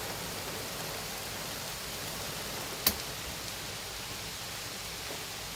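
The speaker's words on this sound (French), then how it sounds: "Ah, il pleut, je vous montre." Steady rain falls on an August day as a continuous, even hiss with no speech, broken once by a single sharp click near the middle.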